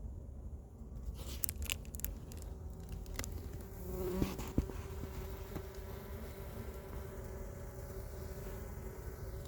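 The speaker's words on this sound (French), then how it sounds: "Bon, il y a des abeilles là-dedans." A swarm of honeybees buzzes steadily inside a cardboard box at night, a dense close hum with occasional faint taps and rustles, no voices.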